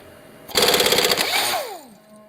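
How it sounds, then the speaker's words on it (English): A pneumatic air impact wrench gives one loud, close, rapid hammering burst of about a second during work on a mini skid steer drive motor, then winds down with a falling whine as it spins to a stop. "I can grab my air impact."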